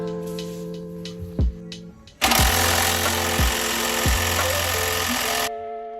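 An impact wrench rattles loose the coilover bolts on a Toyota Soarer, giving a loud, sustained burst of rapid hammering that runs for about three seconds after some quieter clunks in the garage.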